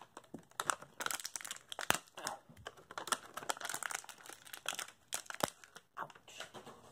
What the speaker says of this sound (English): Now let's open out this Beyblade from the packaging.